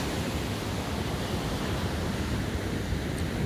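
Steady broadband roar of surf washing onto a beach, continuous and fairly loud with wind noise mixed in and no voices.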